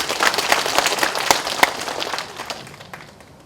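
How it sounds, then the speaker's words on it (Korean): A lecture-hall audience at a Buddhist university's special lecture claps in a quick burst of scattered applause, sharp hand claps bunching together and then thinning out over a few seconds. "박수 한번 쳐드리세요."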